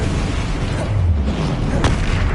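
A Confringo blasting spell goes off in Hogwarts Legacy, a single loud booming burst with a low rumble and a sharp crack near the end, close and alone over steady game ambience.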